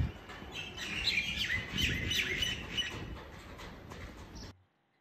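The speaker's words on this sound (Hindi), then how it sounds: "और ये पक्षियों की आवाज़ें आप सुन सकते हैं।" Birds chirp and call steadily through a rainy morning in the Manali valley, a dense layer of bright tweets close by over soft background noise, stopping abruptly near the end.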